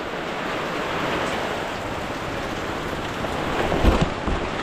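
Steady rain hisses continuously over an outdoor okra field, with a brief bump of wind or movement near the end.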